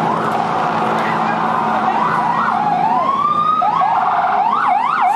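Ambulance siren wailing up and down during a riot in New York, loud and continuous over a dense crowd roar, its rising and falling sweeps repeating throughout.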